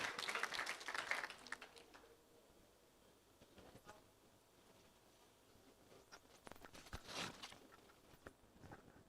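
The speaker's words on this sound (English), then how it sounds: "Warm round of applause" Applause from a conference audience at a business summit in Islamabad greets a federal minister, starting as a burst of clapping, fading to a faint murmur, then a second swell of clapping.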